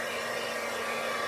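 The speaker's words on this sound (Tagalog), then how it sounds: "Using iTera Clear Blower." An iTera Clear hair blower runs steadily at close range, a constant airy whoosh with a faint motor hum beneath, holding one even level throughout with no talking.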